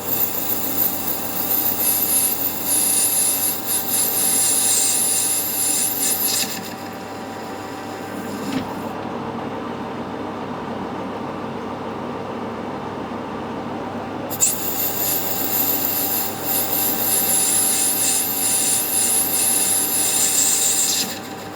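A metal lathe cuts a tractor radiator cap, taking 4mm off and shaping a slight taper, a harsh scraping hiss that drops to a duller rumble midway and then returns, with no talk.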